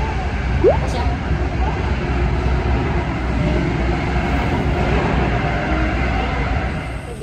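Inside a moving passenger train carriage in the Netherlands: a steady low rumble and rolling noise holds throughout with no breaks, with faint voices underneath.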